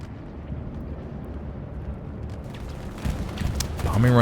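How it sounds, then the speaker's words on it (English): Bombing-run explosions in the World War II shooter Hell Let Loose: a low, rumbling roar of blasts builds and swells, growing louder toward the end, with a rising whine over the final second. "Bombing run coming in from ESPT along the hedge line to get that spawn point"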